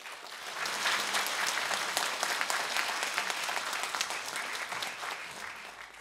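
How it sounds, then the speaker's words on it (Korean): An audience at a Jeju 4.3 70th anniversary symposium applauds warmly to welcome a bishop, a dense, steady wash of clapping holding loud for the full stretch with no voices above it. "뜨거운 박수로 부탁드립니다"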